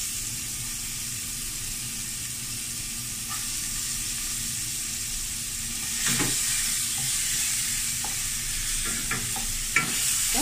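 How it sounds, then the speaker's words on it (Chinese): Garlic stir-fries in hot oil in a red-hot wok, a steady loud sizzle and hiss with scraping stirring strokes and a few sharp clacks of the spatula against the metal toward the end. "我哋而家咧就倒啲蒜头落去炒一炒佢先"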